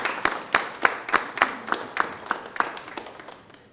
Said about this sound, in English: please give your family just a round of applause for helping you through to this point.